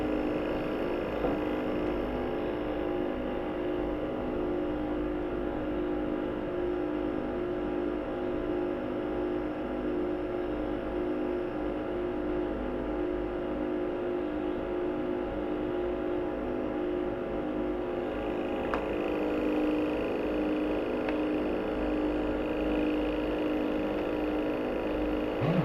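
Plasma reactors spin at roughly 3000 RPM, giving a steady, continuous mechanical hum with layered tonal whine that holds level throughout, with faint clicks near the end.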